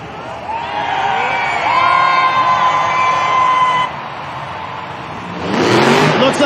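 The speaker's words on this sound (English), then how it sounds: "So let me hear you scream if you want to see some more racing." Arena crowd at the Monster Jam World Finals screams and cheers. A steady, revving engine drone fills the first few seconds, then a loud crowd roar swells near the end.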